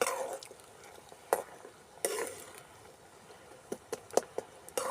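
A sesame and roasted gram laddu mixture with jaggery is stirred in a pan in a village kitchen, giving quiet scraping and sporadic sharp clinks of the spoon against the metal at irregular intervals.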